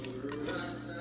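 A brief, faint scrape of a spoon stirring seasoned pinto beans in a pot with a little broth, heard alone with a low background hum.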